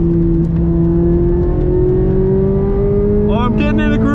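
A 2023 Chevrolet Corvette Z06 with a flat-plane V8 pulls hard under automatic-transmission acceleration, its engine note rising steadily and loud from inside the cabin before a quick upshift near the end.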